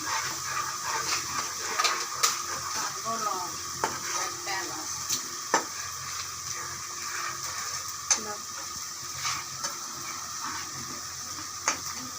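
Whole cloves, cardamom and bay leaf frying in hot oil in a pan, a continuous soft sizzle broken by scattered scraping taps of a spoon stirring, close and alone.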